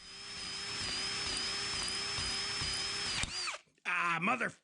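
A power drill whines steadily at high speed for about three seconds, drilling out a plug in an oil passage of a K&T milling machine saddle, then winds down and stops as a voice briefly speaks.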